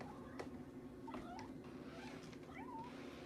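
Several short, thin meows from a cat, spaced out over a few seconds against a faint steady hum.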